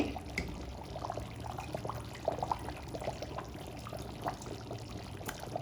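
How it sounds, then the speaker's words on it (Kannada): Hot water trickles and splashes into a pot of mutton curry, a quiet, irregular pour with small bubbling splashes throughout. "ಇದಕ್ಕೆ ಸ್ವಲ್ಪ ಬಿಸಿನೀರು ತೊಳೆದು ಹಾಕೋದ್ರಿಂದ ಸಾರು ಕೂಡ ಗಲೀಜಾಗಲ್ಲ"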